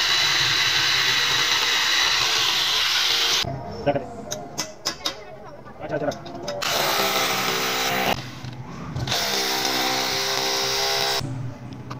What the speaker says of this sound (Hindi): उनको ड्रिल की मदद से हम पहले सुराख करके फ़िट कर लेंगे